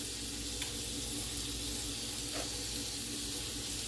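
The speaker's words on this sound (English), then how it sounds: "You can hear that sizzle." Continuous crackling sizzle of leftover London broil beef frying in a pan, steady and fairly close, with faint clinks in the background.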